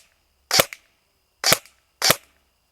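An ASG Scorpion Evo airsoft gun fires three semi-auto shots with 0.28 gram BBs, each a sharp, close snap with a brief mechanical after-click, spaced about a second apart.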